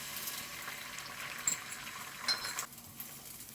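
Egg mixture poured into a hot stir-fry pan sizzles with a steady, close hiss that thins out near the end, while cooking Singapore rice noodles.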